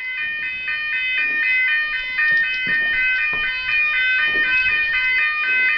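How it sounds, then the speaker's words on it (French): A fire alarm rings continuously in an apartment in the small hours, its shrill repeating electronic beeps pulsing steadily throughout, with faint rustling and movement underneath. "Fire alarme!"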